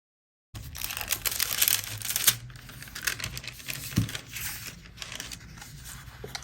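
Strip of foiling tape applied to a card design, close crinkling and rustling with scattered taps and soft scraping, continuous at moderate level after a brief silent start.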